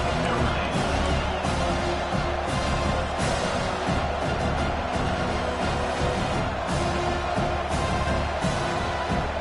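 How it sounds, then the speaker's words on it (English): A football stadium crowd roars on 3rd down, a dense, loud, continuous wall of cheering and shouting that holds steady throughout. "Decibels rising as the crowd gets behind this defense on 3rd down."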